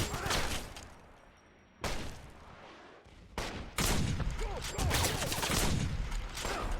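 Rapid gunfire from a firefight in Wolfenstein (2009), bursts of shots starting and stopping, then a dense sustained volley, fairly close, with faint voices mixed in.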